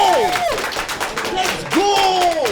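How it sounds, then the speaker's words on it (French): A live audience at a hip hop podcast recording erupts in loud, close whoops and rising yells over patchy clapping, with two big swells of cheering. "Est-ce qu'on peut tout le monde s'applaudir juste d'être là?"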